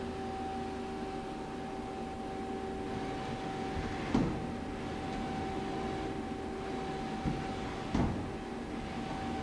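A new 2010 Mighty Viper VT36CL-1500 CNC lathe runs its Z-axis, giving a steady mechanical hum with a thin constant whine and two or three soft clunks along the way. No one speaks.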